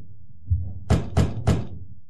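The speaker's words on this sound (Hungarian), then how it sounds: "Kopogunk." Three firm, evenly spaced knocks on a wooden door in The Wolf Among Us, loud and close, preceded by a softer thump.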